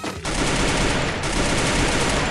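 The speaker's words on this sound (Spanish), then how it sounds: "Hay disparos por allá." Sustained gunfire in the battle-royale video game Free Fire, loud and dense automatic bursts rattling continuously for about two seconds after a brief quiet start.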